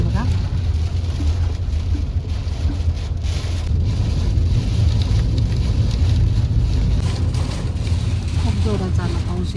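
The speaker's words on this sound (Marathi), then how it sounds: "पाऊस भरपूर आलेला आहे बघा" Heavy rain hammers down during a road trip, a constant broadband roar over a low vehicle rumble, with someone talking throughout.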